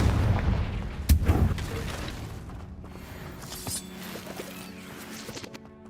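A Confringo fire-blast spell explodes in Hogwarts Legacy, a sharp crack and burst near the start followed by a few rumbling, crackling blasts that fade under ambient game sound.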